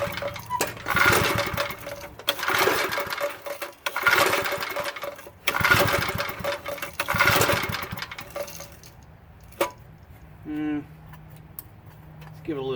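A McLane edger's Briggs engine, its tank dry for years, is pulled over repeatedly in loud bursts of sputtering, chugging mechanical noise, then quiets to a softer idle-like rumble with brief clicks near the end.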